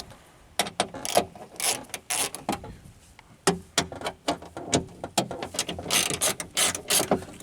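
Hand ratchet loosening 10 mm bolts on a metal panel inside a Pontiac Grand Am door, rapid clicking pawl bursts in uneven runs, close and crisp with brief pauses between strokes.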